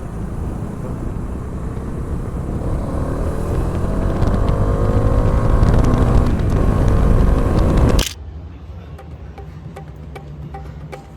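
Roaring motorcycle engine and rushing wind build in intensity, then abruptly cut to a much quieter hum with faint clicks near the end.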